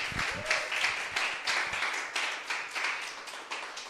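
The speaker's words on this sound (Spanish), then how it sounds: "Vamos, aplauda al Rey." A church congregation claps in a steady, rhythmic beat of bright bursts, moderately distant, with a brief voice at the start.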